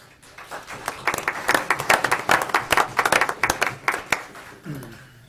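Audience members at a Chino Valley, Arizona town council meeting break into applause, a crisp burst of many hands clapping that swells, holds for a few seconds, then thins out as a low voice begins to speak.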